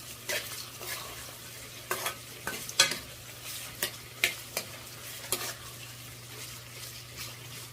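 Onions frying in a pan for a chicken fry are stirred in a dozen or so sharp, irregular scrapes over a faint, quiet sizzle.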